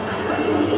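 Pigeons, including a female kept for breeding, coo softly close by in a brief murmuring burst, with a faint voice in the background.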